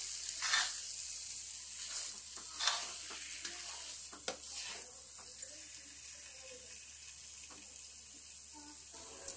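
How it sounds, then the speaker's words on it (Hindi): Grated carrot roasting in a pan for carrot laddu, stirred now and then, giving soft scraping strokes over a faint steady sizzle, quiet and close with no talking. "तब तक हम इसे भूनते रहेंगे। तो बस इसे बीच बीच में चलाते रहेंगे"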